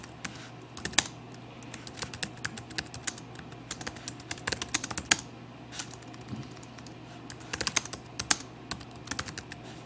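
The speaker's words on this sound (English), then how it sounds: "you can type as we usually have" Fingers type on a computer keyboard in quick irregular bursts of sharp clicks, close and moderately loud, with brief pauses between runs and no voices.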